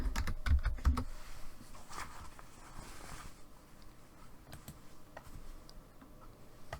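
Typing on a computer keyboard: a quick burst of close key clicks with a heavier thump near the start, then sparser, fainter taps continuing at an uneven pace, no talking.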